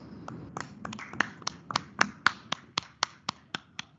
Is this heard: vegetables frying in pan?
no